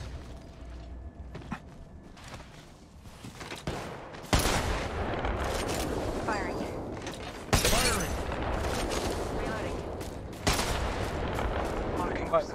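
Gunfire in the Apex Legends video game, several sharp loud bursts and shots breaking through ongoing mechanical clatter, with voices talking in the background.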